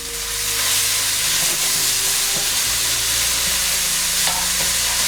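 Sofrito sautéing in a pan, a loud, steady hissing sizzle that rises in the first moment then holds evenly throughout, close and unbroken, with no talking.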